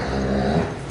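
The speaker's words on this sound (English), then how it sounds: "that's the dog making that noise." A dog lets out a short, low, rumbling growl close by. There are no other sounds.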